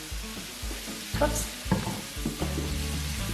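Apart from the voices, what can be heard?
bacon frying in a pan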